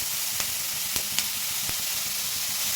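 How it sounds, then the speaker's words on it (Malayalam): Chopped tomatoes sautéing in a pan give off a loud, steady sizzle and hiss, with a few faint clicks of stirring over the frying and no speech. "നമ്മുടെ തക്കാളി അതൊക്കെ ആഡ് ചെയ്ത് കൊടുത്ത് നന്നായിട്ട് വഴറ്റണം"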